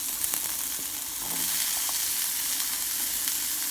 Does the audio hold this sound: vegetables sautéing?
yes